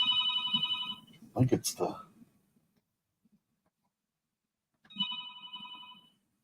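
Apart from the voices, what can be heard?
phone ringing in a hospital room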